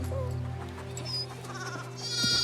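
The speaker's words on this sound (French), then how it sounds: "ses proies naturelles. Des agneaux de lait." Young milk-fed lambs bleat close by, with several overlapping, wavering cries that run on continuously and rise louder near the end, with no talking.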